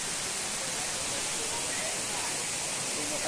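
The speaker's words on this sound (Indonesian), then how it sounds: "Ini adalah air terjun Kuta Malaka" Kuta Malaka waterfall roaring as a steady, fairly faint broadband wash of falling water, continuous and unbroken throughout.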